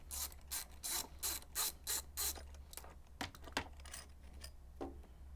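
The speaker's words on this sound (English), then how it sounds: "just take your 10mm wrench, slip it in, set your ratchet on loosen" A 10mm ratchet wrench loosens nuts on a Generac GP3000i inverter generator, a run of rhythmic close-up ratcheting clicks followed by scattered metallic clicks and taps.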